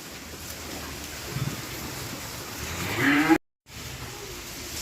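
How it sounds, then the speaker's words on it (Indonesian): Limousin cross cattle, a young bull over a year old held for fattening, low moo rising near the end over steady rain-like background hiss, followed by a brief dropout. "Berikutnya ada sapi ras Limousin."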